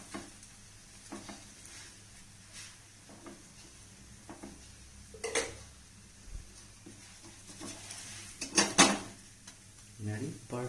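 A Kerala parotta is turned in a pan with oil added, a low continuous sizzle under scraping and clinking of a utensil against the pan, with louder clattering strokes near the end.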